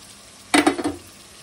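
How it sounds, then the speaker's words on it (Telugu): Marinated paneer pieces fry in a pan and are stirred, heard as a short burst of a few scraping, sizzling strokes after a faint background hiss, close and with no talking. "పన్నీర్ ముక్కలు వేసుకొని కలిపేసుకోవాలి."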